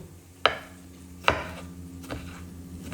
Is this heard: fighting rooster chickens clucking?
no